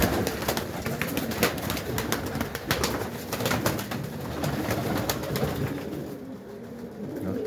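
Pigeons cooing and fluttering nearby, a steady murmur of calls with scattered clicks and rustles throughout.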